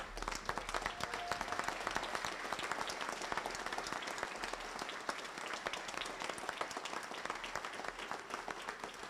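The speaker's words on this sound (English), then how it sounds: "give them a round of applause at this time" An audience at a Prince Hall Grand Lodge scholarships and awards ceremony claps steadily, sustained faint applause from a seated crowd continuing without a break.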